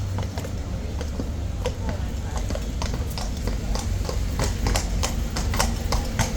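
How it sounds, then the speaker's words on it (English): Horses' hooves clop steadily on a paved London street on the way to Trafalgar Square, a regular marching rhythm of many hoofbeats over a busy background rumble. "horses decided to go on a march to Trafalgar Square"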